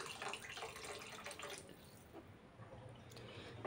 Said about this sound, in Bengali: এখানে আমি আরেকটু জল দিয়ে দিচ্ছি।